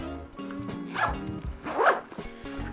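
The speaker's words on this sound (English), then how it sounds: "let me zip it up." A zipper is pulled closed on a Tom Bihn Synapse backpack in a few quick close zips, with a dog barking faintly in the background.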